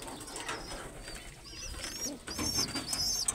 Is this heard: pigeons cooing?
yes